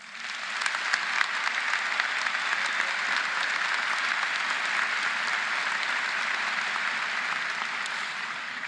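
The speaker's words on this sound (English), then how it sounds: "Please join me in applauding the hard work and dedication of our faculty and staff" Steady, sustained audience applause fills a graduation ceremony at Nation Ford High School, honoring faculty and staff; dense clapping from a large crowd holds at an even level throughout with no voices.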